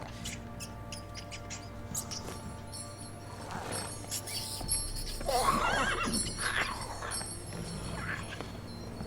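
In-game horse from the Witcher 3 video game neighs and whinnies, with shuffling hoof sounds and game ambience under a constant low drone, moderately loud and close.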